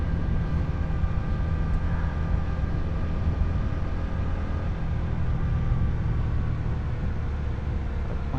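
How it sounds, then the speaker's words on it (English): A steady, loud low rumble and roar of an airplane passing overhead as it comes in to land, constant and unbroken throughout, with faint higher engine whine. "A plane coming in, it's pretty sick."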